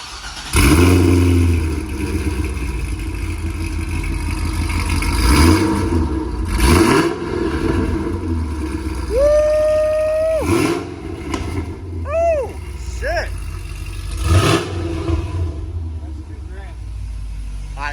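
A Corvette Grand Sport fitted with Texas Speed headers and a Corsa exhaust fires up, then revs in several sharp bursts that rise and fall, loud and close, with people talking over it.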